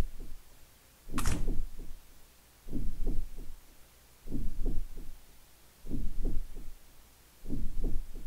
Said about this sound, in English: You hear the heartbeat too, right?